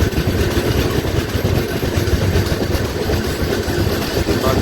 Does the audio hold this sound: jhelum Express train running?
yes